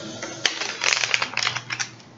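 A deck of cards being shuffled quickly by a hand still sore from surgery, giving a run of rapid, crisp riffling clicks at close range with no talk.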